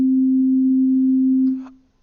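A pure, steady sine-wave tone from a Reaktor 5 software synthesizer holds at one pitch for about a second and a half, then quickly fades to silence.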